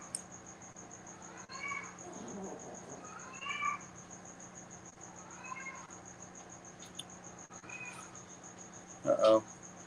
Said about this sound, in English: Screaming cat.